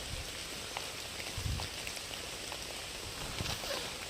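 Rain begins falling in a dense Konkan forest, a steady soft patter of drops hitting leaves and ground, fairly faint and continuous with a few slightly louder taps.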